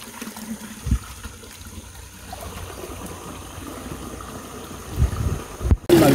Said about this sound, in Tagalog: Tawid tayo ng maliit na sapa.